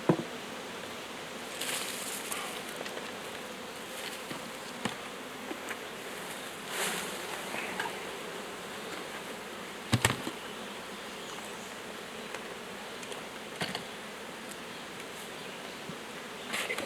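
Honey bees buzz steadily around beehives, a dense continuous hum close to the listener with occasional louder passes and faint handling knocks, no talk.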